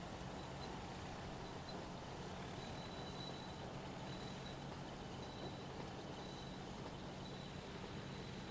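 A train in the game Transport Fever 2 moves off with a steady low rumble and rolling wheel noise that holds evenly throughout, faint and without voices.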